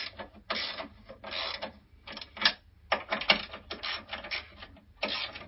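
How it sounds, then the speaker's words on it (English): A ratchet tightening motor mount bolts in bursts of rapid clicking, several separate runs with short pauses between, close and clear with no talking. "So you get your ratchet again and tighten up the 4 bolts."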